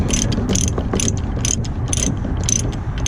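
A ratchet chain binder is cranked to tighten a truck chain hooked to a trailer ramp, giving a steady run of loud, close metallic clicks in repeated bursts, with no talking.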